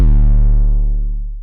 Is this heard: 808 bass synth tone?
yes